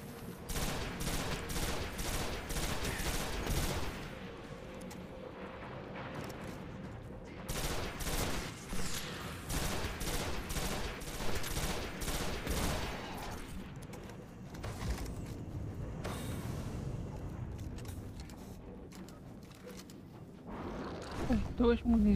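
Bazooka blasts and rapid gunfire from the video game Destiny on PS3, played as a Titan, form a dense, continuous barrage of loud bursts and booms, with a player talking over parts of it.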